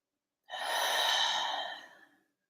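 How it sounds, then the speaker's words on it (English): One slow, deep breath during guided meditation, a soft airy exhale of about a second and a half, close and quiet, tapering off into silence. "Taking in a few deep breaths again"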